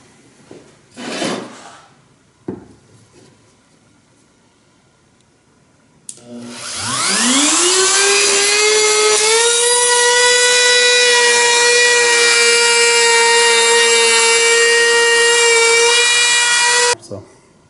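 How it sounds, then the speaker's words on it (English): A few scattered knocks come first. Then a power tool sands a wooden turkey fan and beard plaque mount: its motor whines up to speed and runs loud and steady for about ten seconds before shutting off. "got everything sanded"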